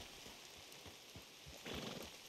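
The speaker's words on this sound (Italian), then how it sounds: "sotto i ponti non dovrebbe piovere" Video game rain falls steadily beneath a bridge, a soft continuous patter with faint scattered drops, quiet and even throughout with no voices.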